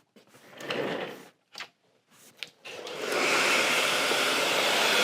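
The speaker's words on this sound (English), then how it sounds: "So now what I'm also gonna do, I'm gonna dry her hair." Hand-held hair dryer blowing through hair without a nozzle during a keratin treatment: after a few brief rustles and clicks, a loud steady whooshing roar starts near three seconds and continues, close by.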